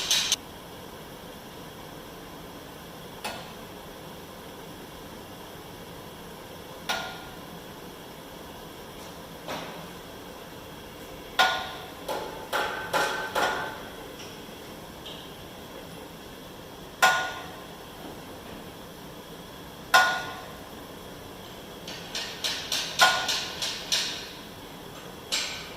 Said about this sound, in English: Now I am heating the race up, and I'm hearing some popping.